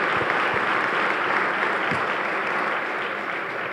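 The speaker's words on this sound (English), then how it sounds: "Good clap at that." An audience at the Jersey City State of the City address gives sustained, loud applause, with thick clapping that fades slightly toward the end.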